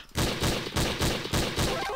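Rapid DMR rifle fire in Counter-Strike, five or six loud, close shots at an even, quick rhythm with a sustained roar between them and no talking.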